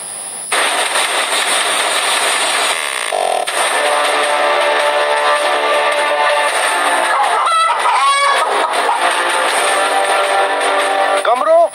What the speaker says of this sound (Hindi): सहन में घूमती गाय और मुर्गियां